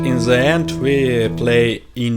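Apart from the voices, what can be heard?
No distinct noise like a dog, phone or traffic.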